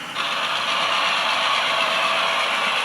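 A Kato N gauge E9 model diesel locomotive's DCC engine sound starts abruptly and holds a constant idling drone with a faint mechanical clatter, fairly loud and unbroken.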